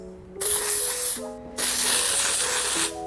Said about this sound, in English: I'm gonna use the J Hair Care Dry Texture Spray